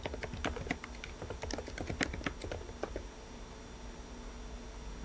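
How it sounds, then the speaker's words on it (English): Someone types a message on a computer keyboard, a quick, irregular run of close, crisp key clicks that thins out toward the end and gives way to quiet room tone. "Then, I just type in a message for why I want to go to that room."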